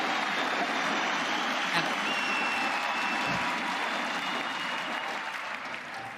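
Arena crowd at the Vista Alegre stadium applauding and cheering for G2 Esports during a 2019 Worlds League of Legends semifinal, a dense, steady roar of clapping and shouts that fills the hall and eases off slightly at the end.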